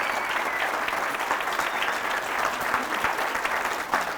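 Loud, steady applause from a church congregation praising Christ, a dense wash of clapping filling the space without pause for the whole stretch.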